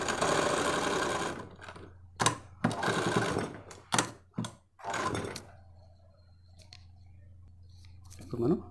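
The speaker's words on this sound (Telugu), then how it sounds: "ఇప్పుడు మనం ఈ విధంగా మనం కుట్టుకోవాలి." A sewing machine stitching bra belts runs in several short loud bursts with pauses between, close up, and the machine sound fades to quiet clicks toward the end.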